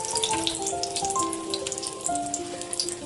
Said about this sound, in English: now we are frying in low flame after heating the oil